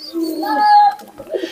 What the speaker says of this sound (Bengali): দেখেন অন্যরকমের ভাই কবুতর গুলা